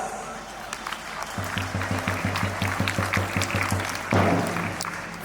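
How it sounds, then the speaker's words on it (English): Audience at a school sports day clapping in a sustained burst of applause, while a rhythmic low drum-like beat pulses underneath and a voice speaks over a loudspeaker. "Give them a big round of applause."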